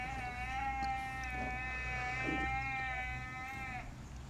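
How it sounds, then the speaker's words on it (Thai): A water buffalo calf near a lakeside in Phayao, Thailand, lets out one long, drawn-out bleating call for its mother, moderately close over a low rumbling background. "ออฟพา น้อง ควาย ไปหาแม่"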